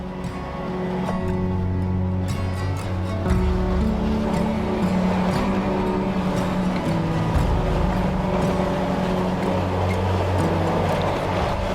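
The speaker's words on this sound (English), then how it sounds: "At some point during the night, the engine took back over" A sailboat's engine runs at sea with a steady, droning motor hum alongside low mechanical rumble and faint water wash, with no talking.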